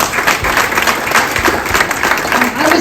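Audience applauding at an honoring ceremony, a steady, dense wash of clapping from a crowd that holds throughout.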